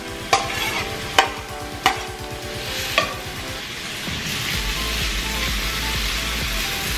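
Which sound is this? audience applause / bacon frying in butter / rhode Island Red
bacon frying in butter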